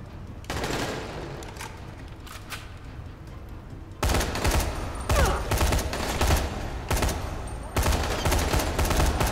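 Bursts of automatic gunfire in Dying Light Enhanced Edition ring out in loud, dense volleys, sparse at first and then heavier and near-continuous for the last five seconds, with no talk over them.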